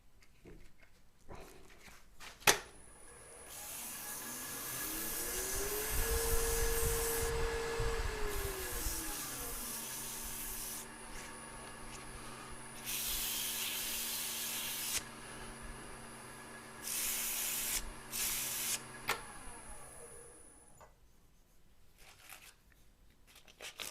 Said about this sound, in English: So I'll do a quick sand on that. I'll just skip to 150 and 220.